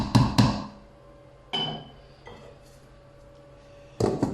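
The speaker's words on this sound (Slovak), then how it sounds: "Polievočka, keď nám začala vreť, tak ju zakrieme." A metal lid set on a pot of boiling carrot and parsley root soup gives a few sharp close clanks and clinks, two quick ones at the start, then single knocks spaced out, with no talk.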